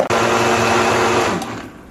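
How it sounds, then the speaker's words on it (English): A blender purees frozen strawberries with a loud, steady grinding whir that runs without a break and then eases off slightly near the end. "I'm going to throw them in the blender and we're going to puree it"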